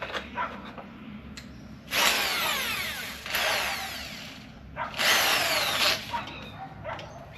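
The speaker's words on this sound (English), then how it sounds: "I sharpened the drill bits up a bit, so I've already got in and drilled a few" Power drill boring holes into metal during restoration of a Mk2 Ford Escort RS2000, close and loud, with two sustained whining bursts that rise and settle as the bit bites, separated by brief pauses and smaller clicks.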